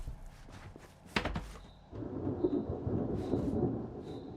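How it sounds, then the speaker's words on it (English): Rain and heavy impacts in a survival video game, with rain falling on little branches and a roof: a deep rumbling thump then steady pattering rain, fairly faint, with occasional footstep-like knocks and no talk. "it's just rain hitting the little branches or something"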